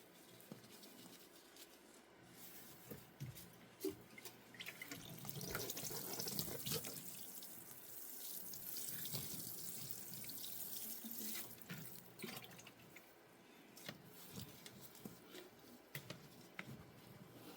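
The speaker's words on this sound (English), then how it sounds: "you notice I'm using a watering can." A watering can pours water onto a worm bed, a soft, close, steady stream with splashing and patter that swells and eases over several seconds with no talk.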